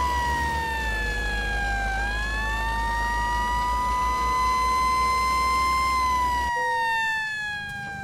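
A fire engine siren in a police driving video game wails loud and continuous, its pitch dipping and rising in a long sweep before cutting off abruptly near the end.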